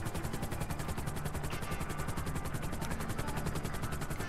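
A helicopter flies in Grand Theft Auto V, its rotor producing a loud, fast, steady chopping beat with engine whine and no talk over it.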